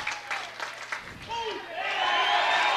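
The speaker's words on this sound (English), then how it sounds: "Now the Michigan faithful cheering him on as they know they can get him out here and end this inning." Michigan fans at a college baseball game against Minnesota cheer and applaud their pitcher, the crowd noise swelling louder toward the end while a voice talks over the top.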